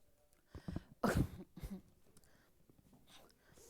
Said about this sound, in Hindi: खांसी हो रही है मुझे।